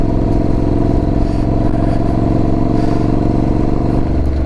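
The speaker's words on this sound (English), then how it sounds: "The thing I do love about this bike is the sound of the exhaust." Motorcycle engine running with its muffler removed while riding, a loud, continuous raw exhaust rumble with steady throbbing and clattery engine noise, close up and alone.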